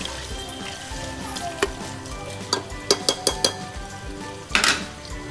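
Two chopped onions fry toward golden brown in a pan while a metal spoon stirs them, giving a soft sizzle under a series of sharp clinks and scrapes that cluster in the middle and near the end.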